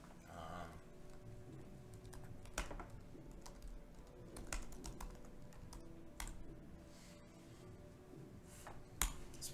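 Typing on a computer keyboard during a Node.js coding session, rapid irregular key clicks close by, layered over soft relaxing background music with no talking.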